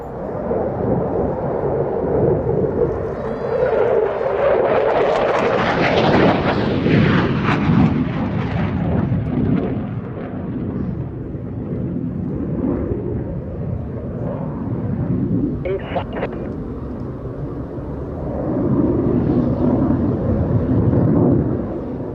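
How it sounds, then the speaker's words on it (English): A Belgian Air Component F-16 Dream Viper jet at an airshow roars overhead in a long, loud sweep, swelling to a harsh peak, then rumbling on and surging again near the end. "Senior Captain Stefan de Vries in the F-16 Dream Viper"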